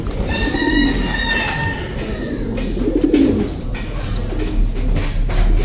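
A young off-color pigeon coos softly as it lands, two low throaty coos close by. Faint chirping from other birds and light background noise run underneath.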